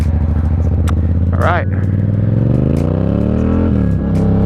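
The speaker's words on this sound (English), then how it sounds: "that exhaust is epic." A Yamaha MT-07 motorcycle engine revs close up and loud, its exhaust note climbing steadily and then dropping back, while the rider speaks briefly over it.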